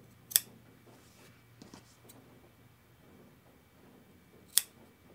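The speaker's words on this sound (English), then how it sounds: "Just cut a diagonal line right to the stitches." Scissors cut diagonal slits into the stitched corners of a fabric hand towel, giving two sharp, close snips about four seconds apart in a quiet room.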